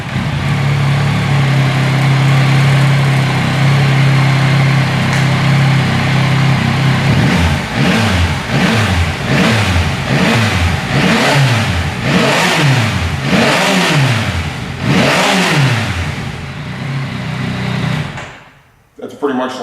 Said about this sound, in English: Pretty much like every other OEM exhaust note, quiet and boring